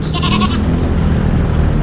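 A goat bleats once, briefly and fairly close, at the start of a loud, busy pet market. Steady crowd and ambient noise fill the background throughout.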